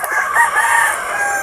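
A tethered pet rooster in a backyard crows loud and close, one sustained crow filling the moment with no voices over it.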